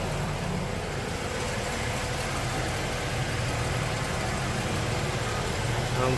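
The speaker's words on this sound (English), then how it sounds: "car's running." A 2013 Ford Edge sits with its engine running at idle, a steady low rumble holding constant throughout, heard up close with faint background noise.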